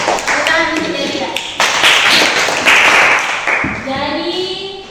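Classroom children clapping for a named classmate, a dense burst of hand claps with a few restarts, close and loud, with young voices talking over it.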